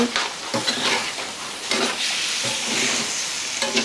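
Amla pieces with turmeric tossed in hot oil in a pan give a close, loud sizzle, with rhythmic stirring scrapes and soft clatter repeating every second or so.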